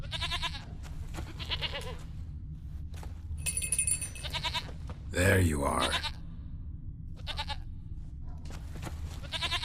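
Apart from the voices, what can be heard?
goat bleating in The Witcher 3 video game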